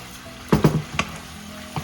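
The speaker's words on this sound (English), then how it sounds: "Let it saute in those fish sauce and soy sauce." Beef sautéing in fish sauce and soy sauce gives a quiet pan sizzle, broken by a few sharp stirring clanks and scrapes, close and otherwise calm.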